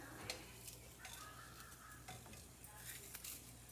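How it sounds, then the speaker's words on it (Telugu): Coriander seeds and urad dal roast in a dry pan for an Andhra-style yellow cucumber chutney, giving a faint dry crackle broken by soft scraping stirs and light clicks against the pan, with no voices. "మినపప్పు వేగినాయి, ధనియాలు వేస్తున్నా"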